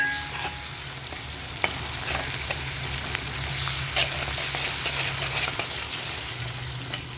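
Chopped onion and two crushed garlic cloves fry in a pan with a steady, close sizzle and faint crackles throughout, with no one talking.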